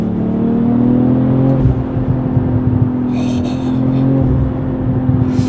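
A deep, low exhaust note from an accelerating BMW M340i Touring hums steadily throughout, a smooth rumbling drone with faint higher whirring bursts partway through and no voices.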